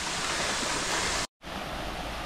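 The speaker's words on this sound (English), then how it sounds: "in this river and this waterfall." A waterfall and river in Ella, Sri Lanka pour and rush in a dense, loud roar that fills the sound, broken by a brief gap of silence before the steady torrent resumes.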